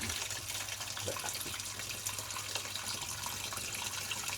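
Water from a rain-filled well is drawn up and poured, giving a steady, close gushing and splashing flow that runs without a break and carries no speech.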